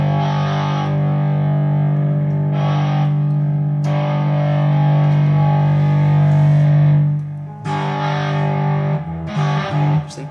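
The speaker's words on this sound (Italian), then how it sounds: "metto il fuzz face e lo attivo" Electric guitar through a Fuzz Face fuzz pedal on a Digitech RP1000 into a Hiwatt amp with a Fane 4x12 cabinet, a thick sustained fuzzy note ringing loudly alone, then a few shorter re-struck notes near the end.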